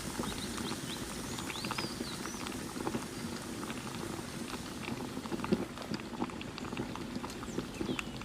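Chicken feet steam over boiling water, a steady low bubbling and hissing with faint irregular patter, continuous and moderately quiet with no talk.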